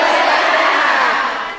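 A group of Avicenna Astra health cadres at a community health post session shouts a loud chant together, a dense burst of voices that tails off near the end.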